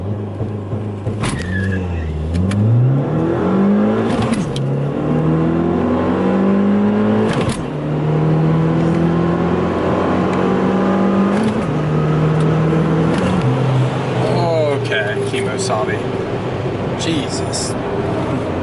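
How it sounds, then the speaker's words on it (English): A tuned Stage 2 full bolt-on Ford Fiesta ST launches from launch control, the engine climbing through repeated loud rising revs and gear changes, with people talking in the car over the engine noise. "so we can actually launch this car."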